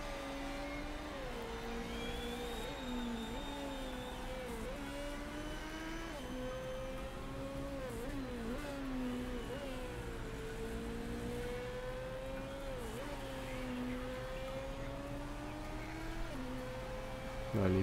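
Race car pulling out of the pits in the Motorsport Manager video game, engine pitch rising and dropping repeatedly through gear shifts, steady and moderately loud, with someone commentating over it.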